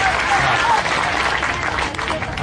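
A large outdoor crowd at the Pali Mahotsav festival show claps together, a loud dense wash of applause that carries on steadily, with faint voices underneath.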